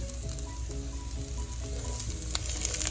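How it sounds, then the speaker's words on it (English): Green chili, garlic and ginger sautéing in a pan for vegetable pulao, a continuous close sizzle with occasional utensil clinks and stirring sounds, growing slightly brighter toward the end. "Go ahead and saute this for another minute until the garlic turns golden brown."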